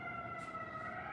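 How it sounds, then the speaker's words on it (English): A nearby emergency vehicle siren wails steadily with sustained tonal bands under a dense city background hum, heard close and continuous with no talking over it. "oh my God, the siren, is it next door?"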